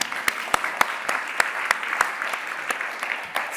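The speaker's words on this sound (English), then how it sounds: "So much easier to walk across the stage when there's applause." An audience claps in a steady, rhythmic beat on a conference main stage at a riverside venue. The crisp, evenly spaced claps fill the space with no talking over them.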